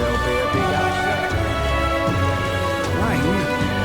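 Steady rain hisses across the whole moment as in-game ambience in the video game Metaphor, layered under music and a talking voice.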